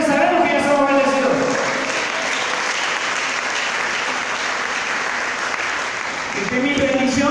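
A church congregation bursts into loud, sustained applause in praise, a thick wall of clapping from many people. A preacher's voice is briefly heard at the start and again as the clapping winds down.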